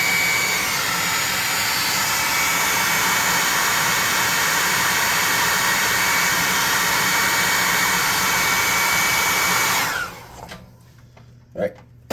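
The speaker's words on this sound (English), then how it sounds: "let's hot air gun that base" Hot air gun blowing over a miniature model base, a loud continuous roaring whoosh held steady for about ten seconds before shutting off, leaving quiet handling noises.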